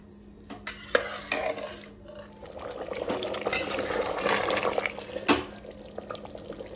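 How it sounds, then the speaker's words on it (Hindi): Mutton liver in yogurt masala sizzles in a pan over medium flame while a spoon stirs and scrapes through it, with irregular clinks against the pot. "थोड़ी देर इसे हम फिर से भून लेते हैं ताकि दही का जो पानी है वो ड्राई हो जाए"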